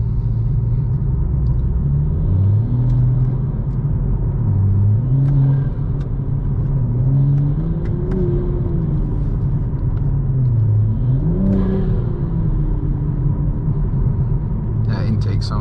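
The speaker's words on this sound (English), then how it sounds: "That intake sounds good." A 2021 Toyota Supra with a modified intake, on stock tires in cold weather, revs and accelerates close by, its loud engine tone climbing, easing off, then rising again in a second pull.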